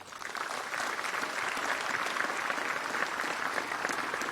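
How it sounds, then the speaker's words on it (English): Steady, dense applause from a large crowd at a graduate school commencement ceremony, even in loudness and unbroken from start to finish. "So let's give all of our folks who came to join you in this beautiful morning a round of applause."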